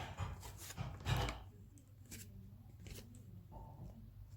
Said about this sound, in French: à l'aide de notre ciseau, venir découper autour de notre cœur